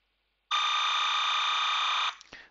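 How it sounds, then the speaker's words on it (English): Timecode signal played back from an uncompressed WAV file gives a loud, steady, fax-like electronic screech that starts abruptly and holds for about a second and a half, then cuts off with a brief trailing blip. "This is timecode. Sounds like an old fax machine"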